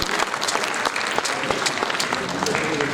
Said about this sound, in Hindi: एक बार तालियों के साथ हम अभिवादन करेंगे।